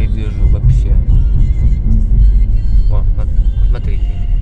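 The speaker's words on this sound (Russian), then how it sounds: "мы сейчас едем в машине по новой дороге объездной" A car drives along a new bypass road near Khabarovsk, its low, continuous cabin rumble steady throughout while someone talks over it.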